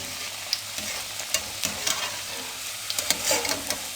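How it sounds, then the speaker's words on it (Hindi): Chicken and potato seekh kebabs frying in oil, a dense continuous sizzle up close with scattered pops and light clicks, no voices. "अब इसी तरीके से बाकी के हम सीख कबाब फ्राई कर लेंगे।"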